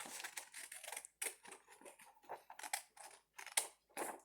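Scissors cutting through paper, close and quiet: a quick run of crisp snips and crunchy slicing sounds in irregular bursts, with short pauses between them.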